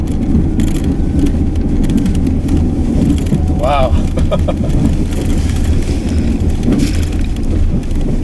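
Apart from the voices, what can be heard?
RAM 2500 Heavy Duty truck plowing into a snow pile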